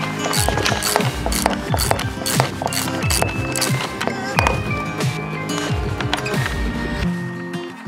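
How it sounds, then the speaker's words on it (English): Wrenches ratchet and clank while removing a broken cable from the spool of a hybrid snowmobile ATV trailer ramp door, producing dense, loud, close metallic clicking and clattering throughout. "Grab a couple wrenches and remove the cable down here"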